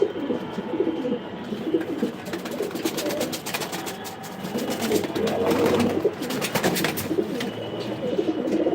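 Repeated low pigeon coos throb throughout at close range, with a rattling, fluttery scraping noise mixed in partway through.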